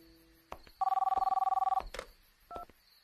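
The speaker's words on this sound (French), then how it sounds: "Je vais répondre au téléphone" A telephone bell rings in a rapid trilling burst of about a second, close and loud, between soft indoor sounds and brief clicks.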